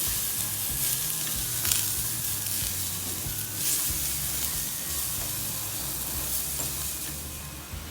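Vegetables sizzling and frying in a hot pan with red chili powder, stirred steadily for several seconds, with a continuous close hiss and soft scraping of the spoon.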